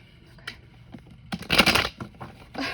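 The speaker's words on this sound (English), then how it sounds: "I need to shuffle one more time." Tarot cards are shuffled up close, giving a quick burst of riffling and rustling paper with a few lighter flicks before and after, set against a quiet room.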